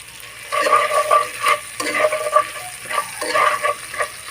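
Turmeric powder and salt frying in a hot pan for a bottle gourd and taki fish ghonto, with a steady sizzle broken by repeated bursts of spatula stirring, close and moderately loud, no voices.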